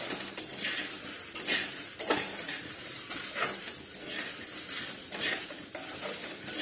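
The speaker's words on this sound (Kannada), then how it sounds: "ಫಸ್ಟಿಗೆ ನಾನು ಹಂಗೆ ಹುರ್ಕೊಂಡ್ಬಿಡ್ತೀನಿ ರೀ, ಎಣ್ಣೆಗಿನ್ನ ಏನು ಹಾಕೋದಿಲ್ಲ" Okra dry-fried in a pan without oil, stirred with a utensil that scrapes and clinks against the metal at steady intervals over a soft continuous sizzle, close up with no talking.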